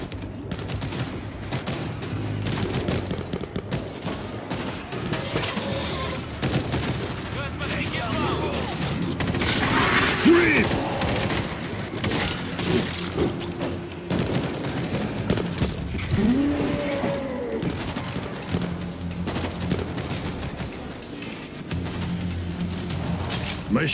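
Machine gun fire rattles steadily through a World War Z gameplay scene in Moscow, long dense bursts of gunfire running the whole stretch amid chaotic game noise, with voices talking over it.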